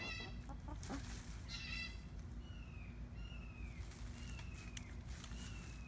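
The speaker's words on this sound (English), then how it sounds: "You hear that red-shouldered hawk in the distance." A red-shouldered hawk calls several times from far away, thin descending cries repeating every second or so over a steady low hum, with hens clucking early on.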